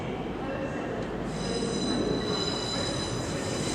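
A passenger train pulls into Manchester Piccadilly station with a steady rumble of wheels on rails and a high metallic squeal that continues throughout, with no voices over it.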